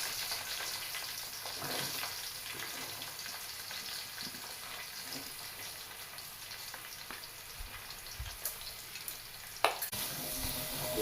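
Four sliced onions, with green chillies, fry in hot oil for a Nellore-style fish curry, giving a steady low sizzle and crackle with scattered pops and one sharper clatter near the end, and no one talking.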